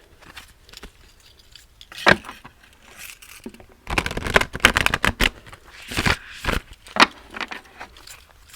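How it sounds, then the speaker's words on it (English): Tarot cards shuffled hard against a tabletop, a quiet riffle near 2 s followed by a dense burst of loud, crisp slapping and fluttering from about 4 to 7.5 s, close and alone without talk. "I'm going to do a couple of little hard shuffles on the table."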